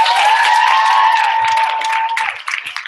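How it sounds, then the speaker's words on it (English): Applause rolls through an audience honoring a group of rising stars, dense steady clapping with a tone running beneath it, then thinning and tapering into scattered claps near the end. "let's give a round of applause to these rock stars"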